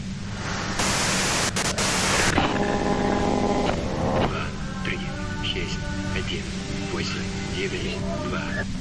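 Radio static hisses loudly in Disco Elysium, a burst of white noise that shifts into a crackling, tonal hum, with a voice speaking through it.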